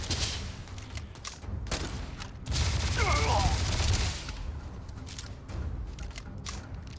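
Video game gunfire in a combat round: bursts of close, sharp shots rattle in clusters against a steady background din, with game sounds mixed in.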